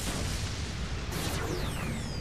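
Grenade blast in the Call of the Dead zombies game, a loud dense boom with heavy low rumble filling the clip, plus a falling whistle-like streak near the end and no talking.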